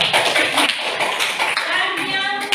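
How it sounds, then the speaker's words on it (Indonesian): A classroom of students applauding a presenting group: brisk, close clapping from many hands, with voices mixed into the clatter. "Berikan aplaus buat kelompok 1."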